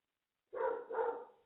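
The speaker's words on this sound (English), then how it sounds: "My dog has no regard for the fight against tyranny right now." A dog barks twice in quick succession, fairly close and moderately loud, after a stretch of silence; no talking is heard.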